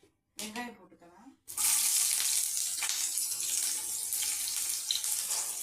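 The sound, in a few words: onions added to hot oil, frying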